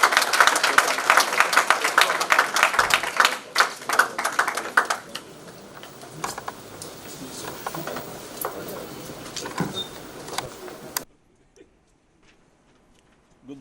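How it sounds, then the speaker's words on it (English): Audience at an annual lecture gives a loud round of applause, dense clapping that thins out and trails off to near silence after about eleven seconds. "Please, can we give him a big round of applause?"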